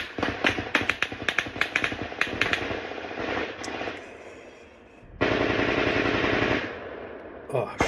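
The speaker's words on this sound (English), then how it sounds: "The PKM's going off." Automatic PKM machine gun bursts mixed with suppressed rifle fire in a forest combat firefight, rapid loud cracking volleys and a sustained dense burst, close and chaotic.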